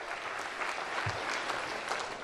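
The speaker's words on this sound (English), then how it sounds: "Give my 3 friends a big round of applause for helping out here, would you?" An audience claps for three helpers at a presentation, a continuous, moderately quiet patter of many hands heard from a slight distance, steady without breaks.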